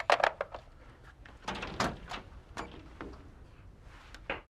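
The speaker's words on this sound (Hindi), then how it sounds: "दरवाजा खोल दिया, आइए।" A door is opened indoors in a TV serial scene: a few close clicks and knocks from the handle and latch, then the creak and bump of it swinging, with soft shuffling and small taps around it.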